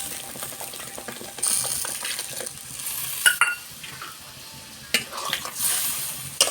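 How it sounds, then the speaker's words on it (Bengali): Pabda fish curry sizzles and is stirred in a pan, soft frying hiss broken by several scrapes and clinks of the spoon against the pan. "এবার একটু কষিয়ে নেব"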